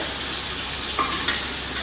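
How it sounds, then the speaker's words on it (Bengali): Fish fry in a pan with a continuous, close, even sizzle and a couple of faint bubbling pops, with no voices. "মাছগুলো ভাজা হচ্ছে"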